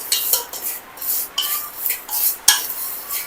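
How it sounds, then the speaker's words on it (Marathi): Vermicelli stir-fried in ghee in a pan, with repeated scraping and stirring strokes of a utensil against the metal in an uneven rhythm, close and fairly loud with no voices. "त्यामध्ये आपल्या जे शेवया आहेत त्या घालून घ्यायच्या आणि व्यवस्थित अशा परतून द्यायच्या"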